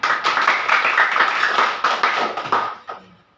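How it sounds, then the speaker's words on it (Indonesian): Classmates give a round of applause in a classroom, dense, close hand clapping that holds steady for about three seconds before fading into a few scattered claps. "Terima kasih Suni, tepuk tangan."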